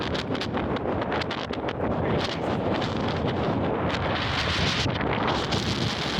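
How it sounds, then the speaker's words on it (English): Strong desert wind in Quartzsite, Arizona roars continuously and loudly across the microphone, with heavy buffeting and rustling gusts throughout and no voices. "Super windy."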